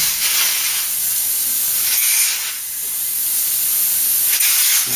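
Pressurised air hissing from a loose cap on the cooling system of a Ford Cortina Mk3 classic car, a continuous close hiss that swells and dips in level over a few seconds, with no talk.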